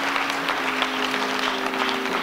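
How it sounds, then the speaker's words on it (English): A church congregation at a memorial service claps, a soft, even wash of hands that carries on steadily under a faint sustained tone. "Let's give him a hand clap."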